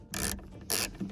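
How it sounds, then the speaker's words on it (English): A T25 Torx driver unscrews a bolt on a Range Rover Sport L320 sunroof, giving two short, close, gritty ratcheting bursts separated by a brief pause. "T25 and unscrew this bolt."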